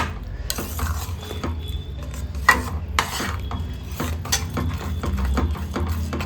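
Tomato pickle fries slowly over a low flame while a utensil scrapes and clatters against the pan, making irregular metallic knocks and stirring scrapes over a soft background sizzle.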